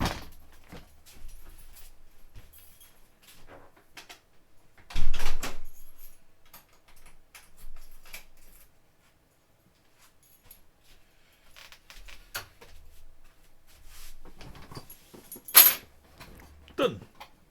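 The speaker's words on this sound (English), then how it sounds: "I just need to lock my door" Keys jangle and a door lock clicks at home, sparse metallic rattles and thumps with a louder knock partway through, then quiet shuffling and further clinks at close range.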